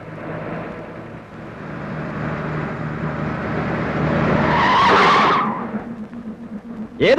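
A car skids in a Malayalam film scene: an engine roars nearer and builds to a loud, sharp tyre screech that cuts off abruptly, followed by quieter rumbling and a brief voice at the end.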